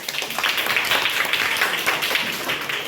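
Children in a class clap for themselves, a dense, steady patter of many hands that carries on throughout without talk.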